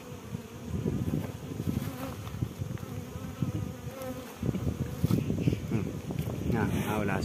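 Honeybees buzz steadily and closely around an open hive during a eucalyptus honey harvest, a dense continuous hum with light wind noise and a voice talking over it.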